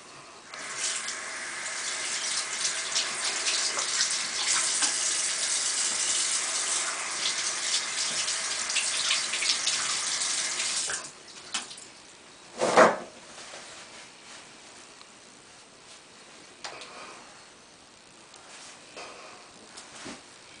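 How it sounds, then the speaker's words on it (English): Tap water runs steadily into a sink while a Speak-EZ cannula is rinsed. The flow stops partway through, followed by a brief knock and quiet handling. "When I feel that this is clean, I'll rinse it out, wash it off with soap,"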